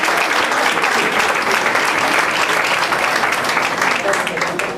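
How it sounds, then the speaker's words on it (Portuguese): Sustained, loud applause from a church congregation welcoming a preacher, dense steady clapping that fills the room and holds for several seconds. "Vamos receber o homem de Deus com as palmas bem alegres do Senhor"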